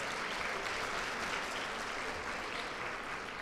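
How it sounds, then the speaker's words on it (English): Steady, sustained applause from an audience at a women's hall of fame awards ceremony, an even wash of clapping from a room of people, moderately distant and without any speech. "One more round of applause."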